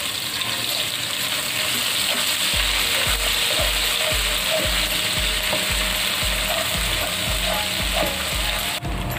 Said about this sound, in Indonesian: Kita akan mulai menggoreng, yaitu bawang putih, bawang merah yang sudah dihaluskan